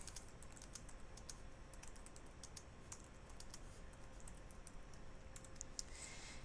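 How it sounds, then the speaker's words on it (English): Quick, light key taps on a computer keyboard come in irregular bursts, close but quiet, over a faint steady background hiss with no voices. "So I'll just type in an example."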